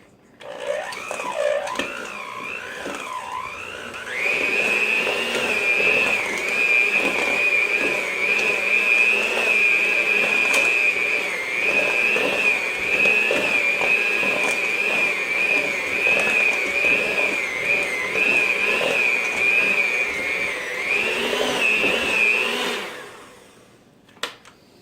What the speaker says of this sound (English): I'm just going to grab my little hand mixer here